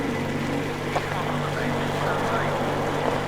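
A boat engine in Metro Exodus holds a steady, constant low drone with no break, while voices speak over it.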